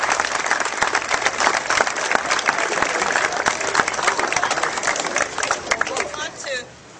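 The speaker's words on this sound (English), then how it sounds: "Please bring her up with a round of applause and a warm welcome" Dense, sustained applause and clapping from a large audience at a Howard University gathering, mixed with cheering and crowd babble, fading out near the end.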